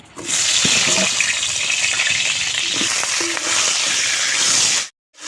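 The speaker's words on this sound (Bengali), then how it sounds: "তেলের মধ্যে আমি এখন বেগুন ভেজে নেব" Eggplant pieces frying in hot oil left over from frying catla fish, giving a loud, dense, continuous sizzle with a few clinks that cuts off sharply near the end.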